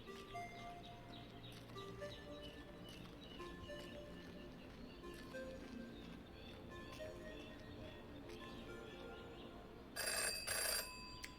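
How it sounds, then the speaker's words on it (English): Phone booth telephone in the Jenny LeClue video game, ringing as a loud electronic burst near the end after a stretch of quiet game music and ambience, with no talk over it. "never to ignore a ringing phone"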